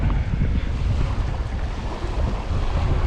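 Wind gusts across a Jamaican resort beach where fishing rods stand set up, a steady full roar of blowing air and surf washing in without pause and with no voices.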